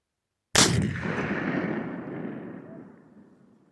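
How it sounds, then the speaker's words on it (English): A 20 gauge double-barrel Howdah pistol loaded with number 4 buckshot and 70 grains of triple F black powder fires a single loud, close shot at clay targets, followed by a long rolling decay. "that's the number 4 buckshot, 70 grains of triple F black powder, and 20 gauge Howdah pistol"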